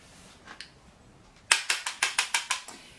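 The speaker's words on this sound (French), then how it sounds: "donc là je vais les lisser un peu avec mon Steampod" A Steampod steam hair straightener is worked through hair: a few faint clicks, then a crisp run of about eight evenly spaced, close clacks from the plates.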